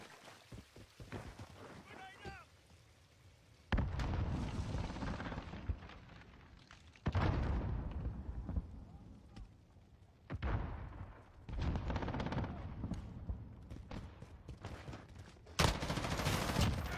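A video game firefight sounds in loud, rapid bursts of gunfire separated by quieter gaps, with sharp reports and rolling echoes.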